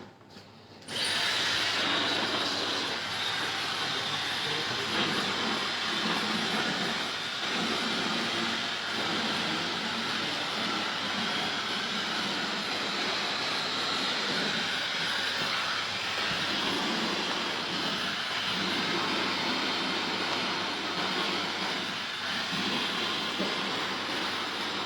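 A hair dryer blows in a Barcelona salon during a live hairdressing demonstration, a loud, steady roaring airflow that starts abruptly and runs on without pause.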